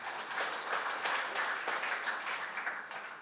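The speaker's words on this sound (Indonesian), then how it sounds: "mari kita tepuk tangan saudara-saudara ya." A church congregation applauds during a sermon, a continuous patter of many hands clapping at moderate distance, steady throughout with no voices over it.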